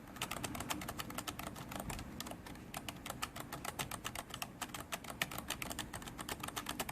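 Steady, rapid typing on a Logitech K120 membrane keyboard, soft plasticky key presses clattering close up without pause, no voices.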